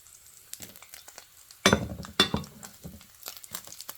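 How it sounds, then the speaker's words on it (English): Bacon frying in a pan while cooking breakfast alongside pancakes: soft crackling sizzle with a few sharp clinks and scraping bursts of handling, fairly close and otherwise quiet. "So this is the rest of the bacon that needs to cook."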